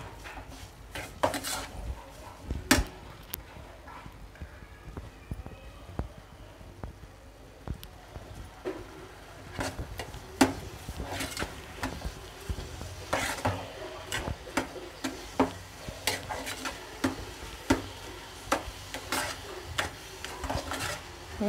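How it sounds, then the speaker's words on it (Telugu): A spoon scrapes and clinks against a pot while carrot halwa cooks down with sugar, producing repeated irregular metallic knocks and rubbing strokes over a quiet background, with no talking. "ఇలా తిప్పుకుంటూ ఉండాలి షుగర్ కూడా కలిసే వరకు."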